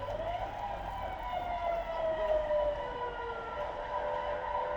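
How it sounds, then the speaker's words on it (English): A siren wails in the distance over a riverside city at night, its pitch rising and falling slowly over a steady low rumble of background noise. "the distant wailing of a siren makes him put on his earphones again"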